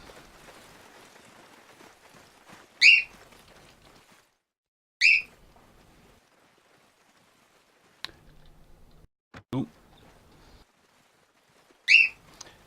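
A pet bird gives a few short, sharp whistled chirps while fireworks go off outside, spaced seconds apart over near-silence. A voice murmurs briefly.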